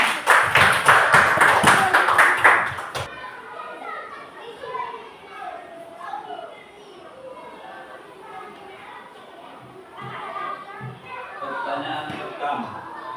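Children in a classroom clap together in a quick, rhythmic burst for about three seconds, then the clapping stops and children's chatter and voices carry on underneath.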